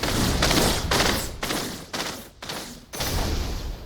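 Firewall spell in the fantasy battle game Spellbreak striking practice targets, heard as loud, dense, roaring crackling bursts in several surges with brief dips between them, no speech.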